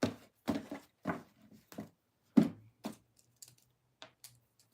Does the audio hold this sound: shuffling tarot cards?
yes